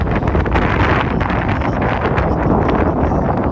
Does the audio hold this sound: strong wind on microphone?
yes